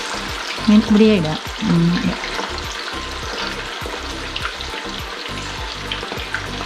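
Quail frying in hot oil crackle and bubble in a steady close sizzle, while voices speak briefly near the start.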